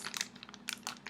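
Plastic milk bag, a one-liter bag of milk, crinkling and rustling as it is handled up close, with several quiet crisp bursts of crackle in a short stretch.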